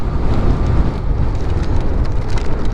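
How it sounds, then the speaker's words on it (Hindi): Steady rain falls heavily on a rural road near Nagarparkar in a dense, continuous hiss with low rumbling underneath and no voices. "बारिश हो गई भाई, बारिश शुरू हो गई।"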